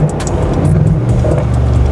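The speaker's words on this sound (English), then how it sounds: "the second he puts it in Sport Plus, you hear the throttles opening." A Brabus 800 G63 SUV engine revs close by in Sport Plus mode, throttles opening into a deep throaty roar that swells and holds steady with a rumbling low end.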